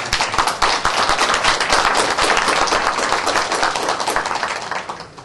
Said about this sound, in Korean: 우리 박수로 좀 오랜만에 환영하고 있습니다.